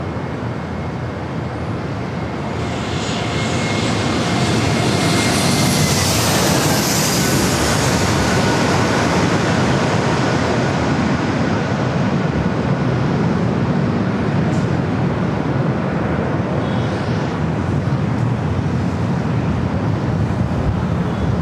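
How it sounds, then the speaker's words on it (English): An Airbus A321neo airliner arriving from JFK lands at San Diego airport with a loud, sustained broadband jet roar that swells after a couple of seconds and holds steady, roughened by wind buffeting on the microphone. "the flight coming in from JFK, an A321 Neo"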